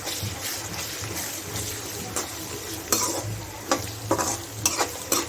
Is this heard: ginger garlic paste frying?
yes